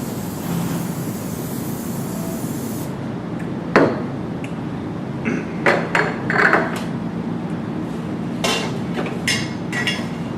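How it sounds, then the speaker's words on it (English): Cooking spray hisses steadily into a muffin pan for about three seconds, followed by a few sharp metallic clinks and taps. "I'm just going to use some cooking spray"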